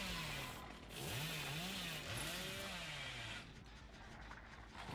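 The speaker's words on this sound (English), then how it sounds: "Oh, what a crazy chainsaw." A chainsaw in the horror game Dead by Daylight revs and whines with rising and falling pitch sweeps, loud and continuous before cutting out near the end, with no speech over it.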